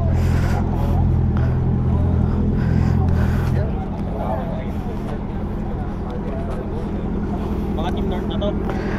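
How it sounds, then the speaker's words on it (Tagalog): A large crowd of motorcycles idles and rolls past at a third-anniversary group ride, with a heavy engine drone that eases partway through and continues under background chatter. "Ang daming motor."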